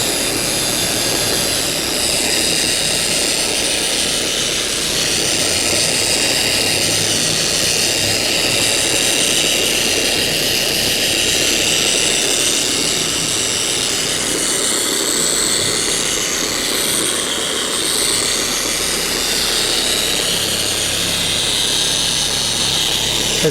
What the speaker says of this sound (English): Again, this is the Dual-Action Pro Polisher from Shurhold.